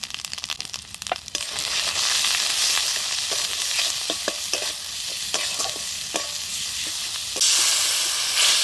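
Ginger-garlic paste, turmeric and chili powder frying in a pan, a steady loud sizzle with frequent scraping and clacking of a spoon stirring, close up and continuous, the hiss swelling louder near the end.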